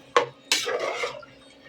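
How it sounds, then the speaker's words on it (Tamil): A spoon stirs potato and green peas curry in a metal pot: one quick scrape, then a longer, louder scraping stroke that fades, close and without talk. "இப்போ ஒரு வாட்டி நல்லா கலந்துக்கலாம்."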